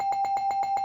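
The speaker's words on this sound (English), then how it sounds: "I'm giving it the bell." A bell sound effect rings fast and evenly, with about seven quick metallic strikes over a steady ringing tone in under a second, heard alone.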